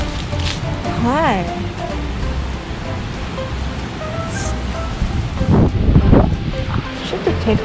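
Gusty wind blows through a garden, rushing and buffeting into the microphone throughout and swelling louder toward the end, while people talk over it.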